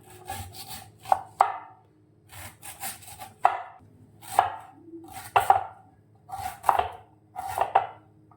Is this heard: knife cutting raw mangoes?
yes